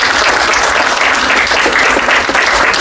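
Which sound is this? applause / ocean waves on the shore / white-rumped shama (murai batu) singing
applause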